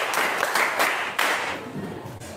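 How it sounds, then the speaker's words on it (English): People at a blogger meetup clap for a woman after her answer, an uneven burst of hand claps with a few sharp, louder strikes standing out over softer clapping. "Clap for her"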